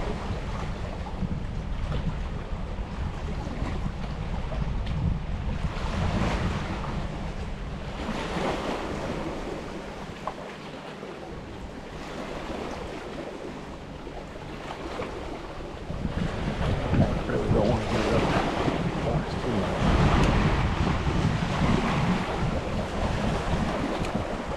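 Waves on open water during bobber fishing for redear sunfish and bluegills, a continuous wash and slap of water with gusty wind noise on the microphone, swelling louder toward the end, no voices.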